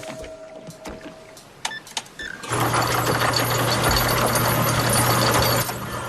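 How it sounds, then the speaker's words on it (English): An anchor being raised aboard a boat, with scattered clicks and knocks followed by a loud, steady mechanical whirr of the winch that runs for about three seconds and then cuts off. "Raising the anchor."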